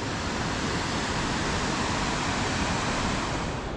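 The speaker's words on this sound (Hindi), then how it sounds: "ये बह रही है चिनाब नदी फुल फ्लो में भाई" The Chenab River in Himachal Pradesh rushes past in full spate, a loud, constant broadband roar of turbulent water with no breaks and no voices.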